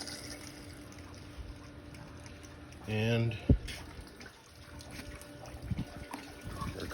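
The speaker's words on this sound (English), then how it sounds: "there comes the water" Water flowing through a Jabsco quick-connect outboard flush attachment on a boat, a steady hiss and trickle of running water throughout, with a brief voice and a few knocks partway through.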